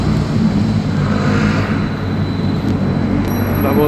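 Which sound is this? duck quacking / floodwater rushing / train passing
train passing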